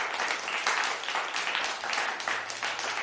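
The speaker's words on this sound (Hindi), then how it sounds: "पूरा मैदान तालियों से गूंज उठता है।" A crowd applauding steadily, many hands clapping in a dense, continuous wash of sound for a few seconds.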